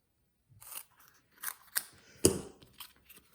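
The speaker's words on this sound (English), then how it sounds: "I'm going to go ahead and cut those, cut that off, because I will use those pieces." Scissors snip through foam adhesive sheets for a split negative papercraft card, a handful of short crisp cuts with one louder close snip near the end, alone in a quiet room.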